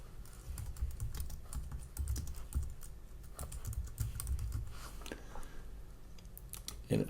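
Keys clatter in quick bursts as a variable name is typed on a computer keyboard, close and steady, with a few irregular pauses and no speech.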